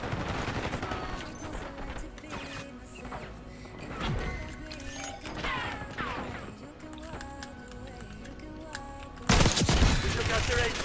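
Explosions and gunfire in a squad-based online shooter: loud muffled blasts and clattering shots, with one sharp loud detonation near the end, while players talk over the din.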